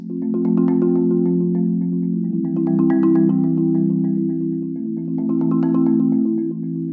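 Rolled marimba chorale with full, sustained low chords whose tremolo swells and fades unevenly in three broad waves as the roll speed changes, played alone and close.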